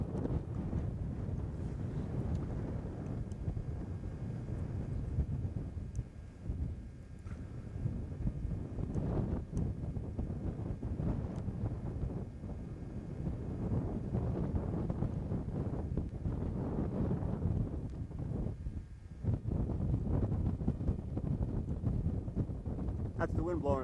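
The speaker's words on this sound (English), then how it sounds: "That's the wind blowing the thing around." Outdoor wind buffets a microphone with a steady, low, rumbling roar that lasts the whole time, while people talk over it.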